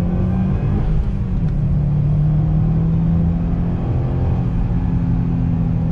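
A Subaru S209 accelerates in second gear under throttle on a road, its engine a steady close rumbling drone that rises gradually in pitch with no talking.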